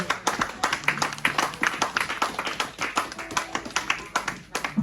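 A church congregation claps in a steady, rhythmic pattern, with sharp, closely spaced hand claps filling the room and faint voices underneath.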